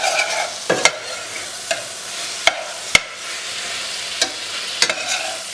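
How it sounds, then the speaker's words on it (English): Marinated beef being stirred in a large pot, with a steady sizzle of frying underneath and several sharp scraping knocks of the spoon against the pot spaced irregularly, close and clear with no talking. "So just stir the beef round."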